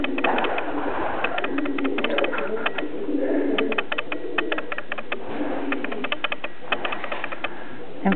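Baby pigeon cooing softly and repeatedly while being handled and fitted with a leg band, a steady run of close, muffled coos over a faint background.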